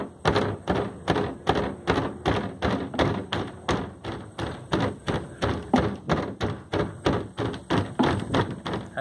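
A mortar tamps oil-bonded petro bond casting sand in a steady run of about two dozen dull, close thuds, evenly spaced and alone without talk.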